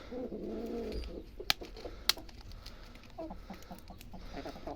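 Chickens cluck softly near sheep while being fed on a snowy Christmas Eve, with a few sharp knocks and faint rustling among the low clucks.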